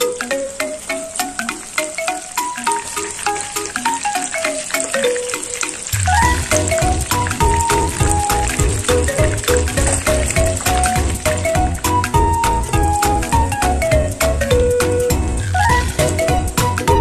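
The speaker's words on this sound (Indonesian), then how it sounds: "Goreng lumpia dengan api kecil hingga kecoklatan." Tofu spring rolls fry in oil over low heat, giving a steady, close crackling sizzle that thickens and grows louder partway through, with light musical accompaniment underneath.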